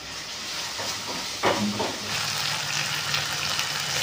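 Spices with rock salt, turmeric and chilli powder frying over medium heat in a pan for a mushroom curry, giving a steady close hiss and sizzle with a few light stirring clinks partway through.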